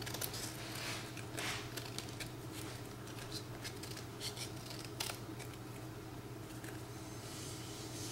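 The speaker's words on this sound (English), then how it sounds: "anything that hangs over the edge, you just snip it off" Scissors snip cardstock overhanging the edge of a handmade card in a series of quick, faint crisp cuts over a low steady hum.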